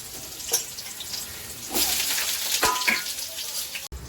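Whole spices for tempering crackle and sizzle in hot oil in a wok, a steady broadband hiss with a few sharp pops and a louder surge partway through, heard close without voices.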